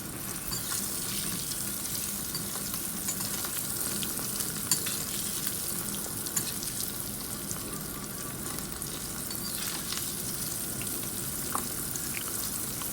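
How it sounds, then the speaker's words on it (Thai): Catfish deep frying until golden and crispy, a dense, steady crackling sizzle of oil that holds at an even level throughout, with occasional small pops and no voices. "ทอดปลาดุกให้เหลืองกรอบนะครับ"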